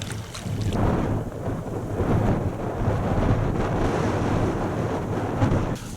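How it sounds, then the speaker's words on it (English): Wind buffets the microphone over a steady wash of water at a reservoir dam in the South Pennines, a low continuous rumble with gusts rising and falling. "Apart from the sound of the water and a bit of the wind, can't hear anything else."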